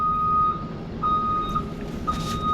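A vehicle backing up sounds three sharp, evenly spaced reversing beeps about a second apart, close and clear over a low engine rumble.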